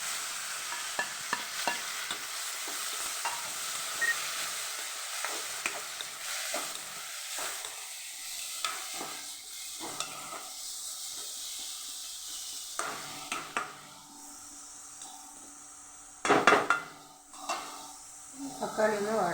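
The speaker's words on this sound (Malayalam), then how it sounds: "ഉള്ളി വാടിക്കഴിഞ്ഞ് ഇനി തക്കാളി ഇട്ട് കൊടുക്കാം." Onions and tomatoes sauté for a tomato chutney, a soft steady sizzle in a pan broken by repeated scraping stirs of a spoon, with a sharper clatter near the end.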